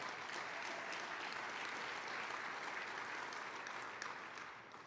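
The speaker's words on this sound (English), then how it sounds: "Give her a round of applause." Sustained applause from a crowd honouring Francine Sutton at a government address, steady and dense throughout before tapering slightly near the end.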